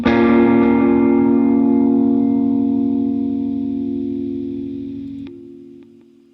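A single sustained synth-like chord treated with the Joey Sturgis Tones SOAR tape delay plugin, flare turned fully down, slowly fading with repeating echoes, then a brief cut and a quieter tail.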